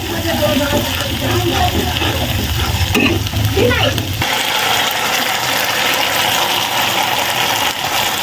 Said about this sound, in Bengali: মশলাটা একটু হালকা ভেজে নেবো আমি।